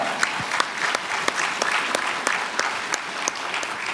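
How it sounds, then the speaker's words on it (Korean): Audience at a Christian school graduation during a Sunday afternoon church service applauds steadily to welcome graduates forward, a dense continuous clapping with sharper individual claps standing out, with little talk. "우리 큰 박수로 맞이하겠습니다"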